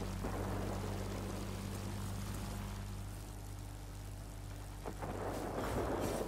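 Propeller warplanes drone steadily in the World of Warplanes video game, a continuous loud engine roar with a low humming tone, alone without talk.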